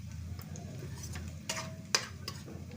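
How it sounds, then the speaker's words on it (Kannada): Onions frying in a pan for an egg recipe, a continuous soft sizzle close by, broken by a few brief clinks of a spatula stirring. "ಇನ್ನೂ ಸ್ವಲ್ಪ ಬೇಯಿಸ್ಕೊಬೇಕಿದೆ ಈರುಳ್ಳಿನ"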